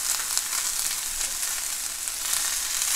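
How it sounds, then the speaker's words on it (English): Mushrooms and julienned fresh sage saute in a hot pan, giving a steady, close sizzle and crackle that holds even throughout with no talking. "We're going to saute that till we get some nice color on these mushrooms."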